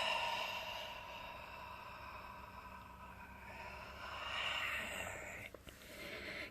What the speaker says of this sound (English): Take a deep breath. As big as you can, and then exhale slowly